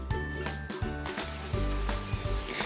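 Chilli pickle spices sizzling and frying in a hot pan, a steady close hiss with occasional stirring scrapes and clinks throughout.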